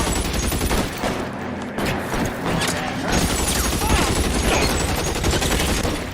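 Heavy exchange of gunshots in L.A. Noire, loud overlapping volleys and rapid fire with crashing impacts, continuous for several seconds.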